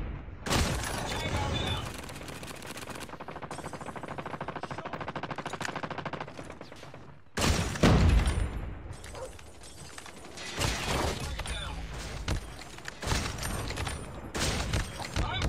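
SPR rifle shots in a first-person shooter video game, sharp loud cracks fired in spaced bursts amid other gunfire and game sounds, with a player talking over parts of it.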